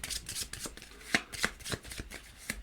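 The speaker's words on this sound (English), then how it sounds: "We'll give them a good shuffle." A deck of Dungeon Universalis board game cards is shuffled by hand, a quick run of crisp riffling flicks and soft slaps close by, with no talking.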